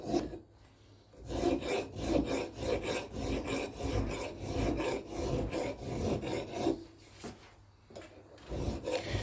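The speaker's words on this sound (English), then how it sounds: "This usually begins with me hand filing a chamfer on the top of the iron." A hand file scrapes a chamfer on a metal bending iron for a double bass in close, rhythmic rasping strokes. Brief pauses come between the runs of strokes.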